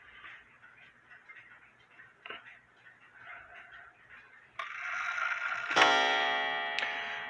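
A mechanical clock movement being set by turning its hands, with soft ticking at first, then sharper metallic clicks and a brighter ringing tone near the end.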